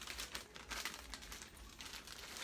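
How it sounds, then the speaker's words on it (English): A small plastic bag is picked up and handled in a kitchen while preparing oven-fried beef liver, giving quiet, close crinkling and rustling in irregular bursts throughout. "take up a little plastic bag here."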